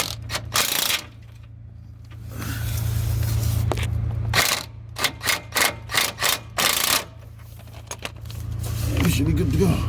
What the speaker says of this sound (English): we're going to tighten back the bolt here and go back to the subframe